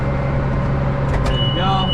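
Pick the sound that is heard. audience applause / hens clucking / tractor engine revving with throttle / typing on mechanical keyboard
tractor engine revving with throttle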